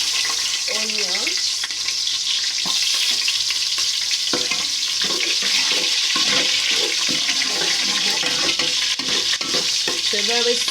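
Onion added to a pot for plantain porridge, with a strong continuous hissing sizzle and some stirring scrapes.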